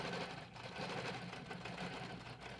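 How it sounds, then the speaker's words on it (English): A sewing machine stitches steadily along a quilted bag, a quiet continuous mechanical whir and rapid needle patter heard close up, with no talk. "we're going to keep stitching, keeping it straight as we go"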